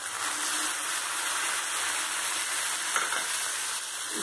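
Tomatoes sizzle with spices in a hot pan on the stove, a steady close crackling hiss that continues without pause, with no voices over it.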